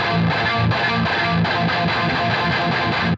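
Loud, heavily distorted electric guitar hitting syncopated palm-muted chords in a stop-start djent rhythm, with no voices.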